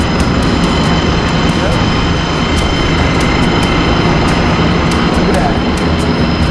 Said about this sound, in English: Power takeoff pump.